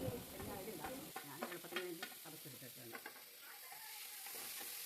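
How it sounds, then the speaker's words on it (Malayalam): Crushed onion dropped into a hot pan and frying, with a strong sustained sizzle and brief stirring clatter near the start, settling into a steady close hiss. "അതിനുശേഷം നമുക്ക് ഉള്ളി ചതച്ച് വെച്ചത് ഇടാം"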